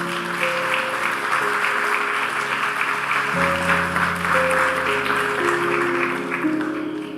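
Church congregation applauding in praise of the Lord during a Christian sermon, a steady dense wash of clapping that persists throughout, with sustained organ or keyboard chords underneath.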